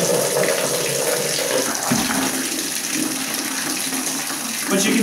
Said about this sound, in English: the lower tube is pushing out water with much more pressure than the upper tube